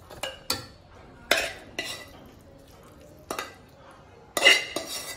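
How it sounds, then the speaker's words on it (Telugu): Cooked tomatoes, fried with green chillies and tamarind for uttapam chutney, are scooped from a pan into a mixer jar: sharp metal scrapes and clinks of a spoon on the pan, irregular and close, with quiet gaps between strokes. "టమాటా వేడి తగ్గిందండి, మిక్సీ జార్లోకి తీసుకుంటున్నా."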